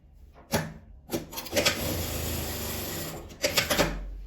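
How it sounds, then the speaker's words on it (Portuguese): Sewing machine stitching a straight seam on fabric scraps, a close whirring run of rapid needle taps that starts and stops in a few short bursts before a longer steady stretch. "Vou passar uma costura, firmando essa parte de cima, a parte reta."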